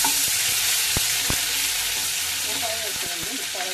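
Masala spices frying in a pan for a tomato and egg curry, a steady close sizzle with occasional light stirring taps.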